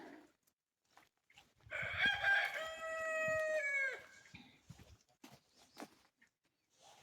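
Poultry in a fenced bird enclosure, with a rooster crowing loudly and close in one long drawn-out call, surrounded by scattered clucks and rustling before and after.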